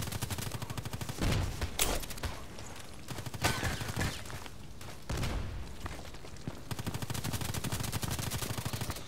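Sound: AK-105 rifle automatic gunfire in Contract Wars video game

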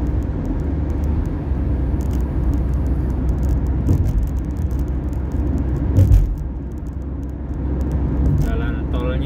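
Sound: busy car traffic on a Saudi toll road at night

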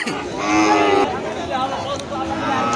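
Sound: cattle at a livestock market

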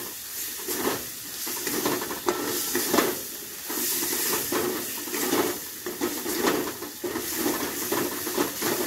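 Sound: spice paste (masala) sizzling in a pan for potol korma

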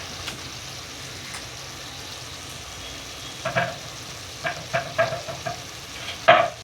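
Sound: mutton frying in oil

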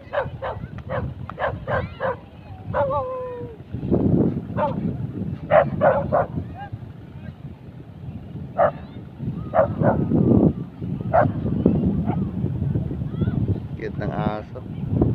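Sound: dog barking

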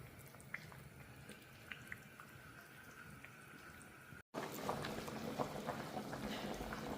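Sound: stew boiling in a pot

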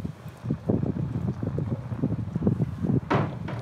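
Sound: wind

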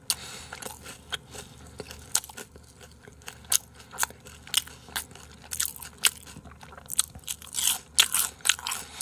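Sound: biting and chewing crispy fried food

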